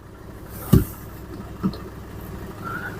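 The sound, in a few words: diesel car engine idling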